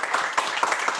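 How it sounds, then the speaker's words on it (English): An audience claps and applauds for a speaker at a wealth-principles talk, a steady wash of many hands clapping at once, moderately loud and brief, with no voice over it. "Let's give Ryan McDermott a round of applause."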